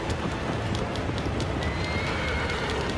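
A horse gallops in the video game Shadow of the Colossus, its hoofbeats a steady, loud clip-clop rhythm under continuous game noise, with a brief whinny-like tone partway through.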